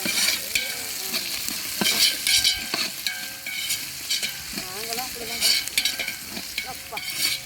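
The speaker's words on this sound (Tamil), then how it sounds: "அழகு வெங்காயம் நல்லா வதங்கட்டும் கல் உப்பு சேர்த்து வதக்கி விட்டுப்போம்" Onions sautéing with rock salt in a large pan, loud continuous sizzling with frequent spatula scrapes and stirring knocks at an uneven rhythm, no voices.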